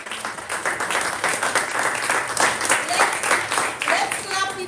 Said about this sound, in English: Please, let's give him a special clap.